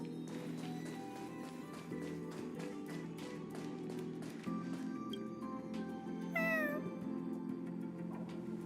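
A single cat meow sounds outside within the Honkai Star Rail game, a short rising-falling cry arriving late over a steady low ambient bed and faint clicking taps.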